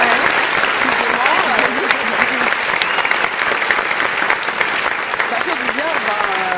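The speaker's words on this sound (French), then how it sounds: "est-ce qu'on peut les applaudir Des vraiment?" A crowd applauds young women entrepreneurs at a live event, dense steady clapping with voices calling and cheering over it throughout.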